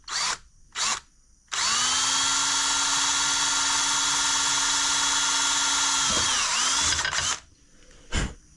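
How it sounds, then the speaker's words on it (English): A power drill whirs steadily at high speed for several seconds while boring a hole in a 1981 Huffy bicycle part, bogging briefly near the end, with short bursts before and after. "My plan is to just keep drilling a bigger hole."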